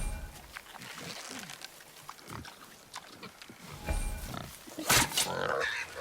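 Wild boar in God of War grunting in short, low bursts across a busy game soundscape, with a louder rough snort near the end and no voices.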